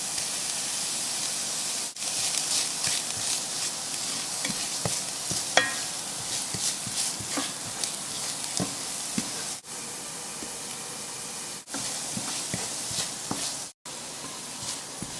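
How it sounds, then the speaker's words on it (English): Chopped onions with a tablespoon of brown sugar sauté over lowered heat in a pan, giving a steady soft sizzle and hiss with occasional stirring clicks and scrapes throughout, no voices. "I continued to sauté the onions, and now they are beginning to have a translucent look."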